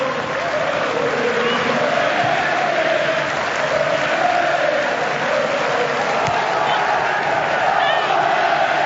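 Steady roar of a football stadium crowd at an A-League match between Wellington Phoenix and Central Coast Mariners, with a rising and falling chant-like swell. A commentator's voice sits in the mix.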